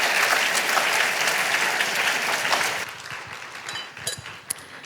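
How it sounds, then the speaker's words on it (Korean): A church youth-group congregation gives loud, full applause to welcome guest speakers, then it thins after a few seconds into scattered, fading claps with a few sharper single claps near the end. "우리 큰 박수로 환영해 주시겠습니다"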